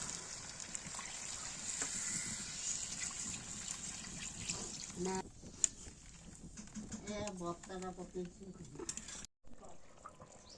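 Water poured into a pot of village-style Odia chicken curry with potatoes and spices, a steady watery hiss and trickle with some stirring and clatter, fairly close, while people talk over it.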